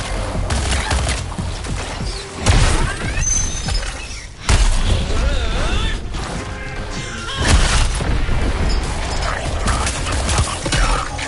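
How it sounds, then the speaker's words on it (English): A cannon volley goes off overhead in Suicide Squad Kill the Justice League, with several loud booming blasts and crashes spread across the stretch, mixed with mechanical clatter and game effects. "Cannon volley overhead."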